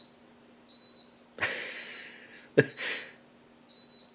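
Repeated high-pitched electronic beeps from an appliance, several evenly spaced tones with a couple of clattering knocks between them, close and clear.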